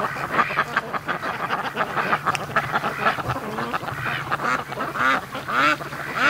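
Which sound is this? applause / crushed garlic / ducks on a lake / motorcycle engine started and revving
ducks on a lake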